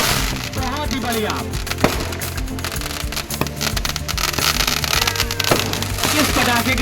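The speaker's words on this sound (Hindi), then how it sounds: "आकाश में लगातार एक के बाद एक आतिशबाजियां गूंज रही है।" Fireworks at the Dewa Sharif Mela fair in 2024 keep up a dense run of crackles and pops, with a few sharper bangs standing out over the fizzing noise.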